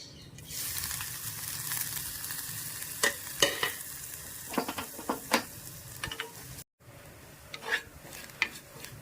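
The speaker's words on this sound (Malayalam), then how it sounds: "തേങ്ങയും കറിവേപ്പിലയും കൂടെ ഒന്ന് വറുത്തെടുക്കാം" Crushed coconut and curry leaves fry in oil in a pan, a steady soft sizzle punctuated by scattered scraping and stirring clicks, close and moderately quiet with no voices.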